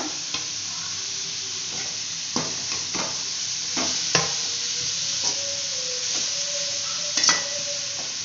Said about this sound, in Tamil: இப்போ இதெல்லாம் நல்லா வதக்கிக்கங்க இங்கே பாருங்க நல்லா வதக்கணும் இந்த மாதிரி